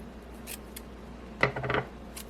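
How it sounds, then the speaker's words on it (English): Scissors snipping double-sided tape into tiny pieces for a shaker card, heard as one sharp close cut followed by a short burst of rapid snips in a quiet room. "I'm actually going to cut this in half again, like that. We are going to make tiny little pieces."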